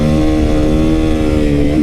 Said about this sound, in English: I'm in second gear right here. Okay, and I'm just gonna crank the throttle.